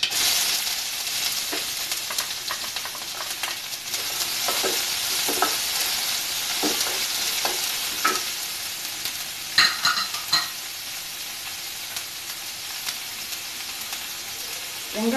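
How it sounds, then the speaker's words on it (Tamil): Chopped onions frying in hot oil with popped mustard seeds for a vendakai (okra) masala, a steady close sizzle with scraping stirs and a few sharper crackles, no talking. "கடுகு பொரிஞ்சதும் கட் பண்ணி வச்சுருக்க வெங்காயத்தை போட்டுறேன்."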